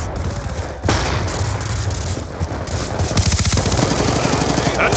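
Dense automatic gunfire from Call of Duty on the Nuketown map rattles almost without pause, loud and close, with rapid bursts and a heavy impact at the start.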